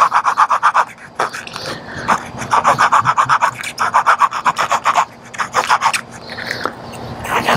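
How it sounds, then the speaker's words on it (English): An Old Timer 2144OT folding knife saw cutting softer poplar wood, rhythmic rasping back-and-forth strokes in quick bursts with brief pauses, close and loud, no talk. "we'll try a piece of softer poplar. See how well it cuts the softer wood."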